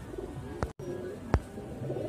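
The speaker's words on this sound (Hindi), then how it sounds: "पंजाबी कबूतरी है, देख लीजिए" Soft cooing from a female Punjabi breed pigeon, a few low murmured coos with two sharp brief knocks nearby, fairly quiet and close with no talking.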